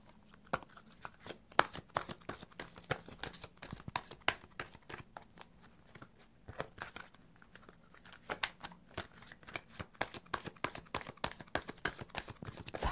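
Tarot cards are shuffled and drawn up close, giving dense papery flutters, riffles and soft taps in irregular bursts that continue throughout at a quiet level.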